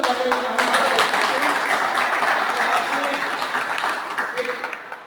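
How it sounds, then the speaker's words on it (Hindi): A crowd at a youth gathering of the Vaishya community during a flower Holi festival claps loudly and continuously, the dense applause fading slightly toward the close. "जोरदार तालियों से"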